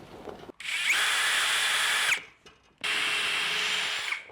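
A power drill bores a hole into a scrap wooden backing board clamped to a cabinet frame. Two loud, steady whirring runs of about one and a half seconds each are heard close up, separated by a short pause, with no talk.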